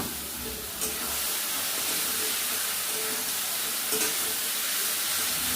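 Mutton going into hot, fried masala in a village kitchen pot for a mutton curry, giving a dense, continuous sizzle and hiss with a couple of brief knocks, close up and without voices.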